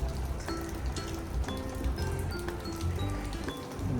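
Steady rain patters on a surface, with scattered drips and light clinks over a constant wash of noise.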